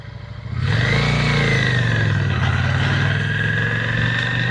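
A Yamaha V-Star motorcycle engine rumbles steadily as the bike cruises slowly through a crowded parking lot, a close, continuous low drone with a slight rise in revs early on.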